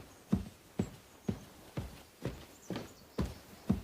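Horse hooves clip-clop at a steady walking pace in Kingdom Come: Deliverance II, about eight evenly spaced, fairly faint thuds with no talk.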